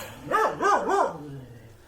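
A dog outdoors gives three quick rising-and-falling barks or yips close by, followed by a short fading whine.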